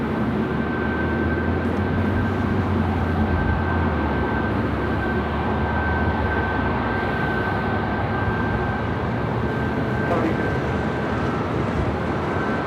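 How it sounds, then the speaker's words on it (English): Austrian Airlines Boeing 777 arriving on runway 24 right at Los Angeles International Airport, a steady broad jet roar with a sustained engine whine, loud and unbroken with no voices. "we do have that Austrian 777 up next for arrival on runway 24 right"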